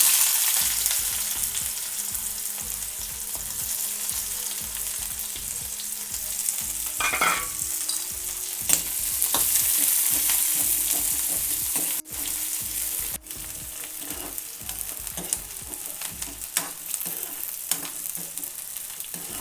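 Onions fry and sizzle in hot oil with fenugreek and ground masala for a mutton pepper fry, a continuous loud sizzle broken by scraping stirs of a spoon against the pan.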